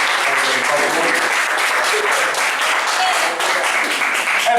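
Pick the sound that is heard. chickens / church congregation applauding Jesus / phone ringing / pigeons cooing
church congregation applauding Jesus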